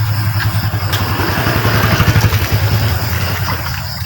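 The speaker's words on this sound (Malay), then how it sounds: "Motosikal pun dapat sampai sini." A motorcycle engine runs steadily nearby in a rural Sarawak village, a low chugging idle with some rattling clatter, continuous throughout and fairly loud.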